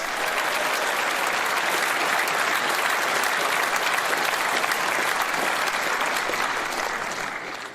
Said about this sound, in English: let's give Kemi a big Reform round of applause